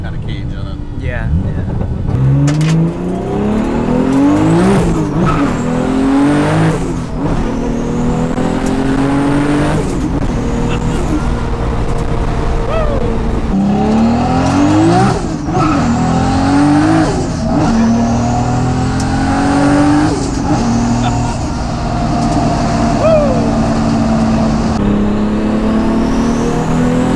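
A 1000HP six-speed Toyota Supra with a triple-disc clutch pulls hard on a highway, its engine roaring up through repeated rising revs with sharp drops at each gear shift, loud and close from inside the car, with occasional voices.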